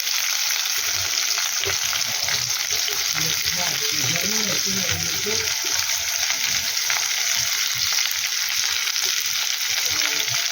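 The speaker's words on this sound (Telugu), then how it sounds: "అవి వేగిన తర్వాత ఉల్లిపాయ ముక్కలు వేసుకోవాలి." Chopped onion pieces sizzle and crackle in hot oil with a steady, close, fairly loud frying hiss, punctuated by occasional stirring scrapes throughout.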